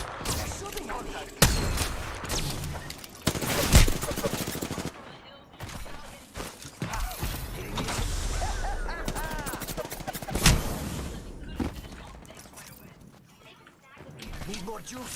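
Bursts of gunfire rattle through an Apex Legends firefight during a competitive LAN match, rapid volleys and single shots coming in uneven clusters, loud and close, with players talking over the shooting.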